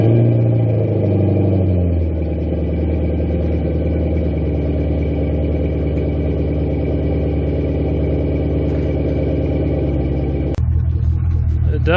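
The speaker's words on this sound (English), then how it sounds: "First startup with the exhaust not completely clamped together." A Camaro SS V8 with a Flowmaster American Thunder exhaust, not yet fully clamped, fires up and settles into a loud, deep, rumbling idle close by, then the tone shifts abruptly near the end.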